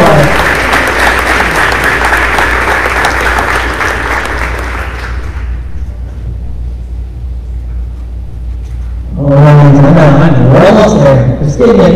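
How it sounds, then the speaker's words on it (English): A loud, dense wash of audience applause at a senior awards day for an award recipient fades out over several seconds. A brief lull follows, then a sudden burst of loud, tonal cheering or voices. "Please give her a applause."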